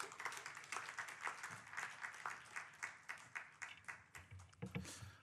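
A church congregation at a Thursday worship gathering claps to welcome a pastor to the stage, a faint, fairly distant applause with rhythmic pulses that swells and thins over several seconds.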